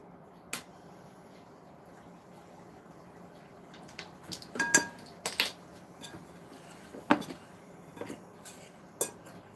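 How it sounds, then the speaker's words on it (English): A fork mixes ingredients in a bowl, producing sparse light clinks and scrapes against the bowl, scattered irregular taps, close and quiet over a soft room background. "Get that all mixed in. And I like using the fork."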